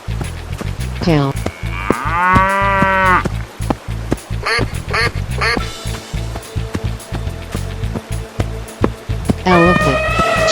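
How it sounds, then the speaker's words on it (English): A cartoon cow gives several loud, drawn-out moos in a row, with short breaks between them, set against a busy background of music and sound effects. "Cow."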